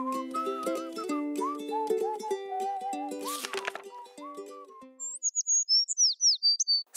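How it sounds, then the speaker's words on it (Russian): Gentle background music plays first, then a run of small, high bird chirps rings out clearly near the end, about a dozen short sliding tweets in quick succession with nothing else under them. "Suddenly he heard a sad chirp."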